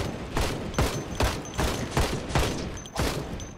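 M16 rifle gunfire in the zombie survival game Project Zomboid, seven or so loud sharp shots fired in a quick, fairly even rhythm, close and alone without talk.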